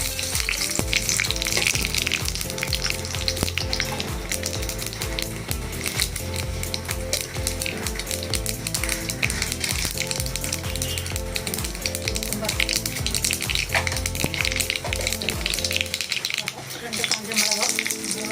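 Mustard seeds tempering in extra hot oil for dal curry, a loud crackling, popping sizzle of rapid sputters running continuously, with a faint background voice.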